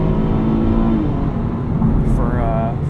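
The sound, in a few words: car engine accelerating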